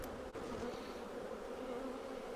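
Honey bees from a long-abandoned colony hum in a dense, steady swarm buzz at an opened hive during its first inspection in over six years, with one brief knock early on and no talking.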